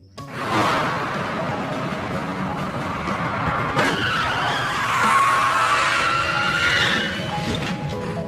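A car skids to a stop in a film scene, a long screeching tire squeal over engine rumble that builds and holds loud for several seconds.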